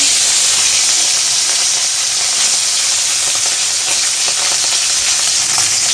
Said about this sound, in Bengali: তেল গরম হয়ে গেছে গুঁড়ো মাছগুলো আমি ভেজে নিচ্ছি